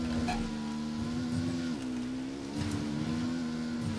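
Dirt bike engine in Ghost Recon Wildlands, a steady, loud buzzing drone that holds a constant pitch with a brief dip partway through, continuous and close, with no talk over it.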